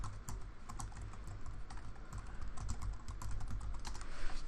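Steady, rapid typing on a computer keyboard, with close, crisp key clicks in quick succession and no talking.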